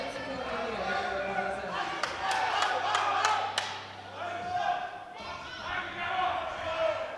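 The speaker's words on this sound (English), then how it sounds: "the Slovenians in the crowd are going crazy for his final squat" A crowd of Slovenian spectators at a European junior powerlifting championship cheering and yelling loudly for a lifter's final squat, with sharp clapping bursts mid-way and sustained shouting throughout.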